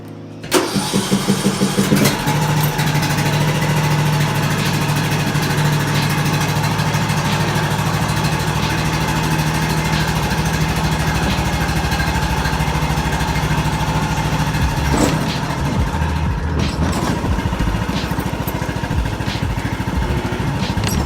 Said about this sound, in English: step on the brake, turn the key, and then we'll back out.